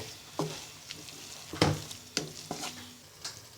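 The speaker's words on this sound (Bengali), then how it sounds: "এবার ভালো করে নেড়ে নিব" Fried cabbage being stirred in a pan after cumin powder is added, with a soft steady sizzle under a few sharp scrapes and clinks of the spoon against the pan at irregular intervals.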